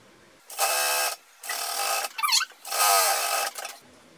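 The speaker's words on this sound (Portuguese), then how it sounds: "E vou costurar isso aqui para a costura ficar escondida" A sewing machine stitching a hidden seam in flat-woven pajama fabric, running in three sustained bursts of roughly half a second to a second each, with brief pauses and a short squeaky handling noise between them.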